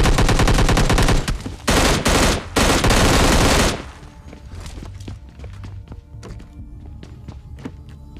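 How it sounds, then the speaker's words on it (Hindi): Loud rapid bursts of automatic rifle fire from an M16 in PUBG Mobile Lite, in sustained volleys with short gaps, then dropping to scattered quieter thuds and footstep-like taps. "तो मैं इसके कुछ शॉट्स मारता हूँ"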